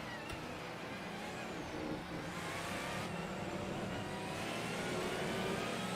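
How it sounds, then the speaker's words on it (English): A loud, steady Porsche race car engine in the video game Assetto Corsa roars continuously, with a high-pitched whine and slight pitch shifts as it drives on. "That Porsche is ridiculously loud."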